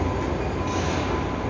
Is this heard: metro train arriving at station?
yes